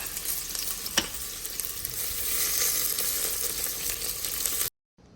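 Onions and celery frying in a pan, with a steady close sizzle that holds throughout and one brief stir or clatter near the start, then cuts off abruptly at the end.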